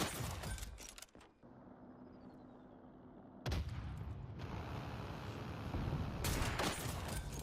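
Gunfire in Escape from Tarkov during sniping: a few heavy shots burst out, then dense, echoing firing and rumbling movement follow, fairly loud over a continuous battlefield ambience.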